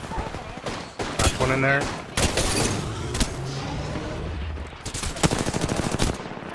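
Video game gunfire: repeated sharp shots and bursts, some loud and close and others lighter, crackling around characters who speak over the fighting.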